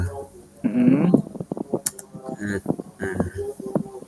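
Clicks of typing on a computer keyboard, a short irregular run of keystrokes heard alongside Indonesian speech.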